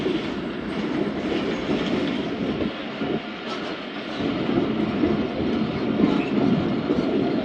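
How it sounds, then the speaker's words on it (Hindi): Zakariya Express train rolling into a railway station after fog delays, a steady loud rumble of wheels and carriages with faint clickety-clack running the whole time, close by and without talk. "रेलवे स्टेशन पर अराइवल हो रहा है ट्रेन का।"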